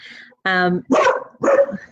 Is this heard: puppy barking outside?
yes